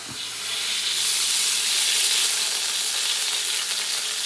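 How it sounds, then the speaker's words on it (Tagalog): Potatoes go into hot cooking oil in a pan and fry with a loud, continuous, hissing sizzle that swells after a brief clatter at the start and stays dense throughout. "Lagay muna natin ang patatas. Piprito muna natin to."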